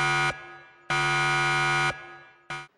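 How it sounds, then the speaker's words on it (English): A security alarm blares in harsh, loud buzzing bursts, one long blast between shorter ones, with sharp cutoffs and brief silent gaps, and no voices. "all of a sudden, the security alarm went off"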